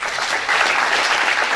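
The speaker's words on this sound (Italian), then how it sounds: "ci vuole un grande applauso." Steady, dense applause from a large crowd at a sports testimonial ceremony in Rivarolo Canavese, continuous and loud throughout with no individual claps standing out.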